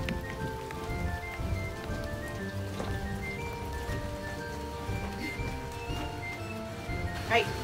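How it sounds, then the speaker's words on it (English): Rain falls steadily outdoors on a Halloween trick-or-treat evening, a soft continuous patter of drops under a droning, tonal background and occasional voices, with a louder sharp tap near the end. "Hey, it's raining."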